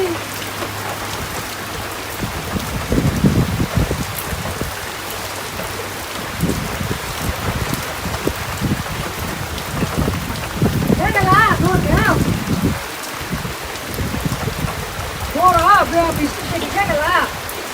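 Steady rain falls in a Bangladeshi village, pattering on surfaces nearby, while someone talks intermittently over the downpour.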